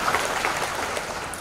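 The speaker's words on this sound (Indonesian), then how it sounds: "tepuk tangan." Audience applause during a seminar talk, a short, dense burst of many people clapping together at fairly loud, steady volume with no speech over it.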